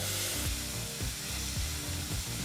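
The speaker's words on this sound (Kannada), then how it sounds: "ಸರಿಸುಮಾರು ಮೂರು ನಿಮಿಷಗಳ ಕಾಲ ಮೀಡಿಯಂ ಫ್ಲೇಮ್ನಲ್ಲೇ ಈರುಳ್ಳಿನ ಚೆನ್ನಾಗಿ ಫ್ರೈ ಮಾಡಬೇಕಾಗತ್ತೆ" Onions and curry leaves fry in oil over a medium flame for a brinjal gravy, giving a steady, close crackling sizzle that runs throughout without pause.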